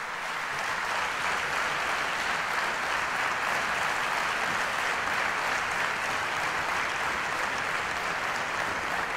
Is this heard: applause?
yes